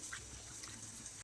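Bitter gourd being rubbed and washed by hand in plain water, giving a steady close splashing and swishing that runs throughout with no talk, then stops abruptly.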